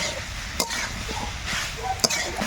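Figs sautéing in a pan the way meat is braised, a steady low sizzle and hiss of frying with two brief sharp utensil taps against the pan, close and continuous.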